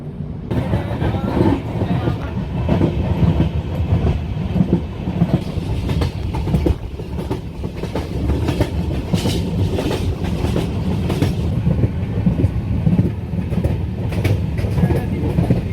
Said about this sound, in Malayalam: ട്രെയിൻ വീണ്ടും മുന്നോട്ട് പോവുകയാണ്.